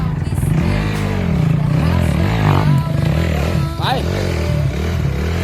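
Honda CRF 250 Rally motorcycle engine revving hard as it climbs uphill over bare rock, loud and close with rising and falling throttle, while a rider's voice speaks and shouts over it.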